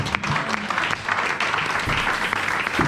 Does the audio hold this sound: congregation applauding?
yes